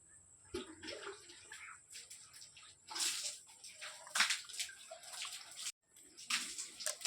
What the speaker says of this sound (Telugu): మినప వడియాలు ఇలా వేసుకుని బాగా కలుపుకుంటా ఫ్రై చేసుకోవాలి